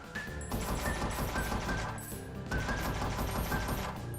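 In the Desktop Survivors 98 video game, shotgun fire sounds as dense, rapid bursts of overlapping blasts in two waves, loud and continuous with thin chiming tones layered on top.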